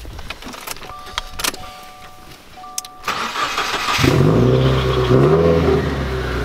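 Subaru WRX engine cranks and catches in the cabin, a brief electric whir first, then a steady loud idle rumble that settles in and keeps running.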